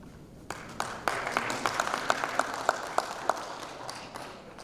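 Audience applause greets an arts and culture industry section chief at the 33rd Chungbuk Artists' Convention, a steady wash of clapping with sharper individual claps, moderately near and building over several seconds.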